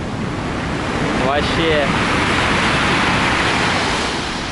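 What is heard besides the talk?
storm waves crashing on the Sochi shore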